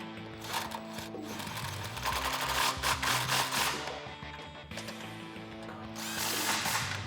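Jeep Wrangler JK shock absorber bolts are run in with a power tool and socket: bursts of whirring drill-like buzzing with ratcheting pauses, close and moderately loud, no talking.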